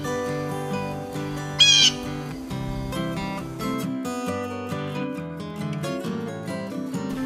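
A blue jay gives one brief, harsh squawk, loud and close, over steady background music that plays throughout.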